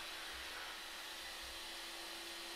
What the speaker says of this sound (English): Just let the Hoover do the magic, and it will soon come clean.